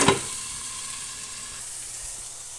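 Cabbage sizzles and fries in a pan after a brief clatter of stirring at the start, then settles into a steady, soft hiss with no one talking.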